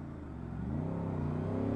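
A Honda Ruckus scooter's small engine revs up as the rider pulls a wheelie, its buzzing note climbing and growing louder over a couple of seconds, heard from close by.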